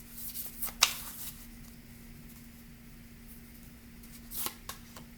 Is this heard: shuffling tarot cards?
yes